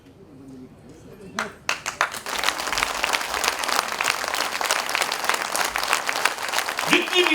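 Audience clapping breaks out at an award ceremony honouring women in Uttarakhand. It starts with a few sharp claps, then swells into loud, sustained applause from a large crowd.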